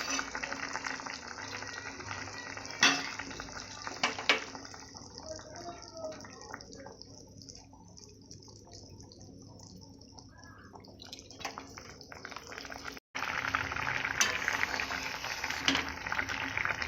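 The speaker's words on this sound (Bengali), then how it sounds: "মাছগুলো দেব এইভাবে কিছুক্ষণের জন্য ফোটাবো" Rohu fish curry boils in a pot with potatoes, a faint, low simmer of bubbling and occasional drips that stays soft and steady throughout.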